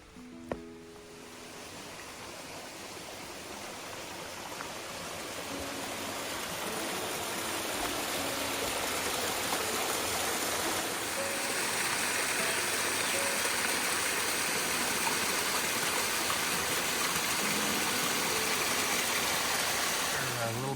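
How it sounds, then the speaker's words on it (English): Steady broadband rush of a waterfall on a muddy, wooded hiking trail of the Camino Primitivo in Spain, a continuous close roar that swells slightly and holds loud throughout with no talking. "A little bit of waterfall time."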